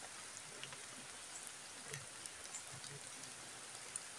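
Steady light rain patters continuously on surfaces in the early evening, a soft even hiss with scattered droplet ticks throughout.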